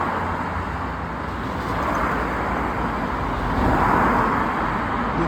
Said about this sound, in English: Then you see the other cars coming uphill.